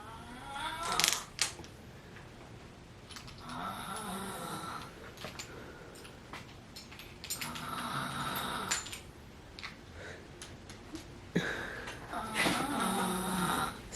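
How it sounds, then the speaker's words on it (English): A person snores in a room, repeated rough breathing bursts in roughly periodic cycles, moderately loud and close, with some faint background noise. "Snoring it up over here."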